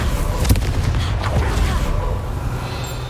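Confringo blasting spell in Hogwarts Legacy, heard as a couple of sharp, punchy blasts close up. A booming impact comes early, then a second hit, before settling into rumbling game ambience.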